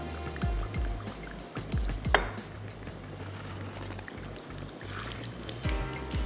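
Fried dahi bara dropped one after another into water, giving a series of soft splashes and plops with some clatter over a steady low background hum.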